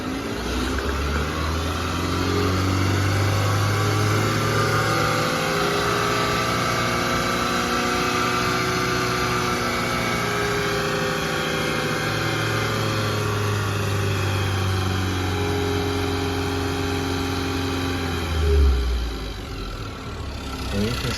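A car engine being checked with an ignition coil on it rises from idle to higher RPM, its droning harmonics climbing and holding steady, then falling back near the end, loud and continuous throughout.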